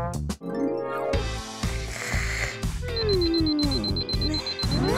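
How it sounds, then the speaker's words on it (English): An alarm rings loudly and continuously at close range, a dense metallic ringing with a steady high tone that goes on for several seconds without pause. "that alarm is so loud"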